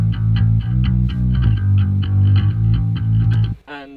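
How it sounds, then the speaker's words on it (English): Electric bass in a rock track plays a loud, groovy, repeating line of punchy low notes with a steady rhythm. It runs alone for about three and a half seconds, then cuts off. "we decided to go and add an electric bass"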